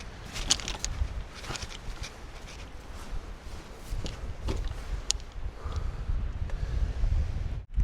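Wind gusts across an open golf course at Remedy Oak, producing a continuous rough rumble and buffeting on the microphone that rises and falls in strength, with no speech heard.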